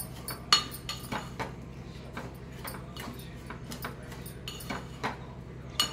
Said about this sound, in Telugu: ఇందులో షుగర్ వేసుకొని కలుపుకొని మంచిగా కలిసేటట్టు కలుపుకోవాలి.